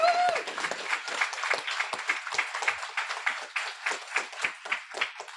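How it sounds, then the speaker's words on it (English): Audience applauding dog trainers at a December graduation ceremony: steady, dense clapping from a crowd filling the room, sustained throughout with no voices over it. "So, round of applause."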